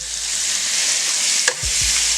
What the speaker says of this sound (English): chicken's frying up nicely